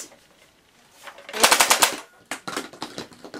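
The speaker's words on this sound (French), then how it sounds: "Oui, ouais, c'est un fusil nerf." A Nerf toy gun fires plastic darts in quick bursts, a close rattling volley of snappy mechanical pops followed by a second, shorter string of shots.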